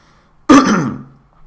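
A single throat-clearing cough, loud and close, bursting out abruptly and trailing off over about half a second amid otherwise quiet surroundings.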